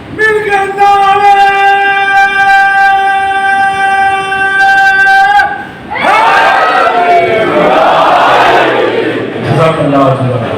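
A crowd at a Muharram majlis gathering in Jaffria Colony raises loud slogans together, a sustained mass of voices that follows a long steady tone and fills the space.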